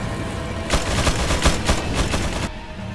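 Gunshots fired at an enemy in Resident Evil 4 ring out as a quick string of about seven loud, evenly spaced reports over a low game-world hum, with no talking.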